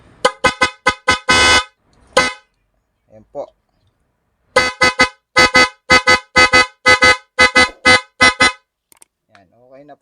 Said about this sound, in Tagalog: So busina po natin.